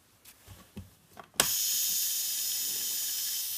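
A classroom robotics model's wheel driven through a gear train, heard as a few soft clicks and taps followed by a sudden onset of steady, even whirring hiss that carries on evenly at close range.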